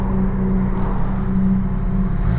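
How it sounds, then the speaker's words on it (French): A Skoda Kodiaq accelerating nearby, its engine drone loud and steady with a low rumble that holds throughout, no talk over it. "Puis lui il réaccélère le Kodiak de merde là."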